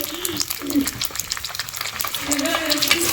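Plain eggs frying in a pan over a raised flame, a steady crackling sizzle with spatula stirring and scraping, a voice talking intermittently over the cooking.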